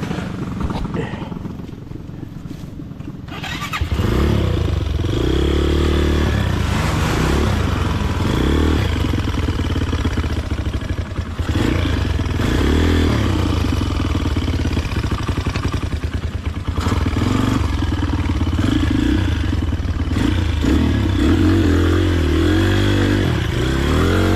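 A loud motorcycle engine roars nearby after a quieter start, revving and rumbling continuously with shifting pitch, voices faintly audible underneath.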